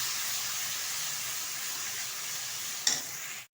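Onion paste frying in a pan with a steady, even sizzle throughout, close and moderately loud, with a single brief clack of a utensil near the end before it cuts off.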